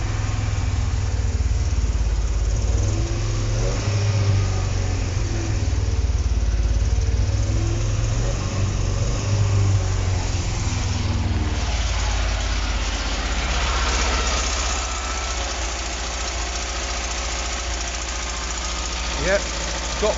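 An old Talbot Express van engine runs with the choke partly pulled, giving a loud, close, steady idle with a low throbbing rumble that continues throughout.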